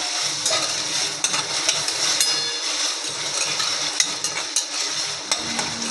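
Onion roasts in a pan with curry leaves and green chili, a constant bright sizzle under frequent light scrapes and clinks of a spoon against the metal, close and steady with no speech.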